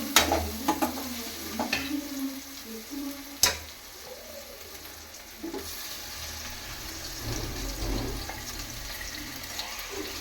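Tomatoes go into a pan of frying chicken sukka, giving a soft continuous sizzle broken by clanks and scrapes of a spoon stirring against the pan.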